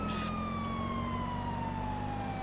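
A police car siren in the video game GTA V wails steadily, a bright tone gliding slowly downward over a constant engine drone, loud and close with no talking.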